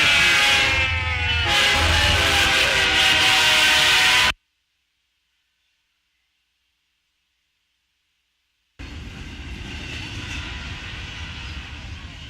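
A train rumbles past with a loud, steady roar and a high horn-like tone, then cuts to silence before the dense rumble returns.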